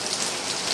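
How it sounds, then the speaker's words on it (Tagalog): Heavy rain pours steadily onto surfaces outdoors, a dense, continuous hiss with no voices. "Lakas nga po ng ulan"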